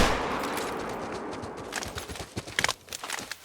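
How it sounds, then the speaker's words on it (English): A shotgun firing in the hunting game The Hunter: Call of the Wild, with a few sharp cracks and short thuds over a brief noisy stretch, moderately loud and with no speech. "Shotgun at that range is not a good idea."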